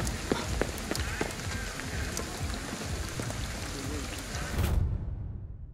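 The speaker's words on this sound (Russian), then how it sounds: "Дождик." Rain falls in the video game Ghostwire: Tokyo, a steady pattering hiss with scattered drop ticks that cuts off abruptly near the end.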